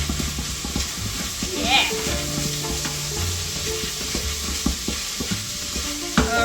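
Sausage sizzles steadily while frying in a pot for Zuppa Toscana, with scraping stirs and small clatters throughout; a voice briefly exclaims over the cooking.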